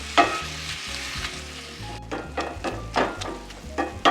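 One pound of ground beef frying and browning in a pan, with a steady sizzle and repeated scraping and stirring strokes close by.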